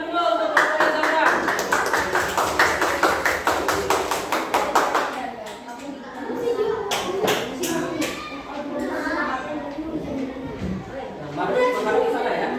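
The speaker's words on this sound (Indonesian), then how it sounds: "Beri tepuk tangan dulu untuk kelompoknya Zafran." Primary school pupils clap for a classmate's group at SD Mutiara Bali, a burst of uneven hand claps up close that fades after several seconds into chatter and a teacher talking.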